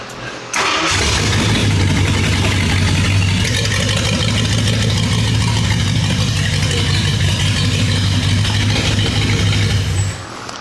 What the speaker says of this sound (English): All right, we're gonna fire it up and then pull a plug wire one at a time, see if we can figure out which cylinder's not happy.